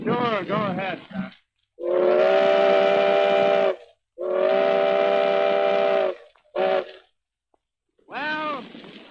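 Steam train whistle blown in several long, loud, steady blasts separated by short pauses, with a brief toot and a voice speaking at the start.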